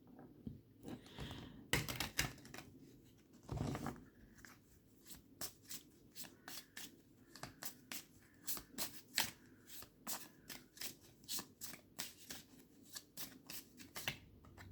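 Playing cards shuffled for a card reading, a long run of quick riffling bursts and crisp flicks, close and fairly quiet, with no talking.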